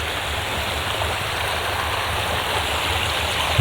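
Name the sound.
creek flowing in Omaha, Arkansas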